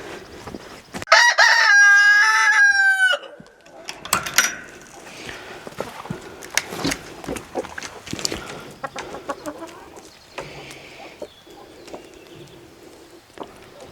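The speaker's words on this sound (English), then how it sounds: "First, let's check on some chickens." A rooster crows loudly near the start, followed by scattered clucking and rustling movement around a homestead chicken coop in the morning, with no talking.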